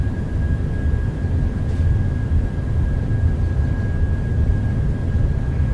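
A BahamasAir airliner in Microsoft Flight Simulator on its takeoff roll, a steady broad engine roar and rumble that holds at an even, loud level with a thin constant whine above it. No one speaks.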